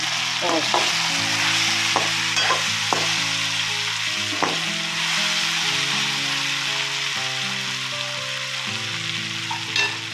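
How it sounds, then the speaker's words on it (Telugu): Okra pieces frying in a pan as they are stirred, a steady close sizzle broken by repeated scraping and clinking strokes of the spoon, no voices. "బెండకాయలు వేగిపోయినాయి చూడండి, జిగురు లేదు, ఏమీ లేదు."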